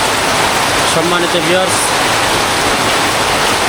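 Heavy night downpour drumming on a house roof, a loud, dense, unbroken hiss of rain, with someone speaking briefly over it.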